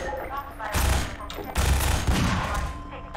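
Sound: gunfire from favorite weapon in video game

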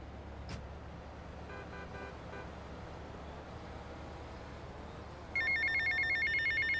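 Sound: telephone ringing in the video game GTA Vice City

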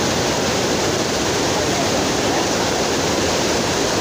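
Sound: small waterfalls at Thusharagiri

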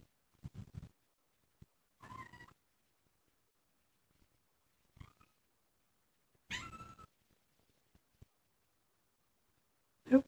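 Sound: cat meowing

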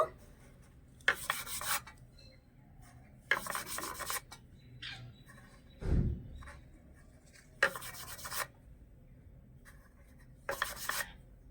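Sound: rubbing dough between hands to shape chushi pitha

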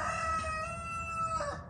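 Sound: roosters crowing

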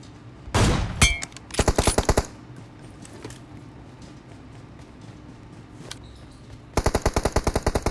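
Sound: MK14 Dragon skin gunfire in BGMI PUBG video game

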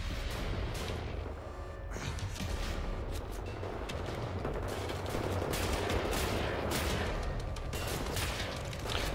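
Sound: weapon gunfire, Wolfenstein The New Order video game

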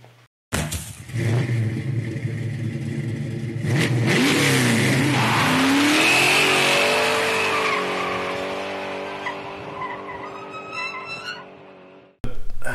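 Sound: Austin-Healey Sprite engine starting and revving after ten years

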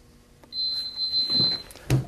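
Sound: heat press beeping when countdown completes

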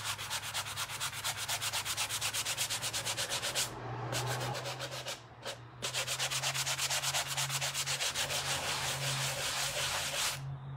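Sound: lightly rubbing to distress painted leaves on a wooden tray

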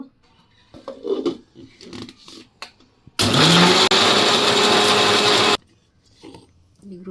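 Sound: mixer grinder grinding with water

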